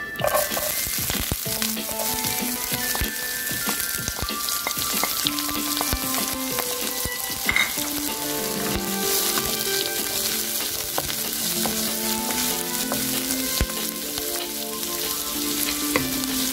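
Chopped shallots, garlic and green chilies sauté in oil for a bitter gourd stir fry, making a loud, continuous crackling sizzle with frequent stirring scrapes and pan knocks throughout, without any talking.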